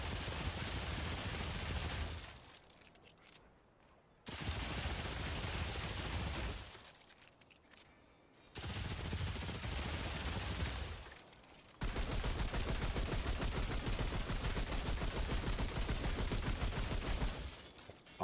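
Rapid assault rifle fire in Remnant 2, dense crackling bursts with short pauses between them, loud and up close, then one long sustained volley near the end with no talk.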